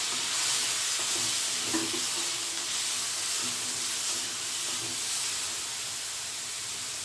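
Chopped tomato and green beans sauté in a pan with curry leaves, a soft, even sizzle and hiss running steadily the whole time with faint stirring, no voices.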